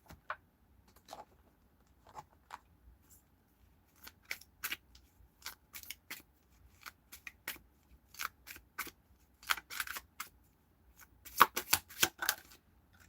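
Tarot cards are shuffled by hand in a quiet room, giving bursts of crisp riffling and snapping clicks in irregular clusters. The bursts grow denser and louder toward the end, with no voices.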